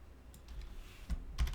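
Someone types a short command on a computer keyboard, a few quiet, close keystrokes and clicks spaced irregularly, ending in a quick cluster of taps.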